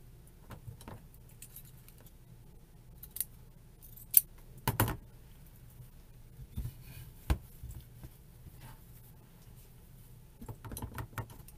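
Scissors snip through ribbon sold by the yard in a quiet room, giving a few sharp isolated cuts and light rustles spread out with pauses, close and faint overall with no talking.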